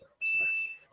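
A Dr Pepper delivery truck reversing sounds a single sharp, high electronic beep lasting about half a second, fairly loud and clear against a quiet background.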